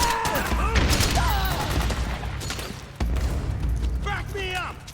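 Gunfire in a Metal Gear Solid 4: Guns of the Patriots battle, with dense bursts of rapid shots and automatic fire under shouting soldier voices, loud and close, with a brief break near the middle.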